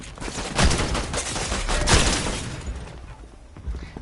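Shotgun blasts in Fortnite, two heavy booming shots about a second apart amid noisy game action and rumbling effects.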